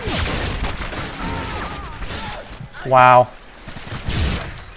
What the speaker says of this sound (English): That's the that right there, my friends, is the UMP at its finest